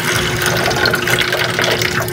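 Old coolant water drains from an Aerox V2 scooter as a loud, continuous splashing gush of liquid, close and steady throughout.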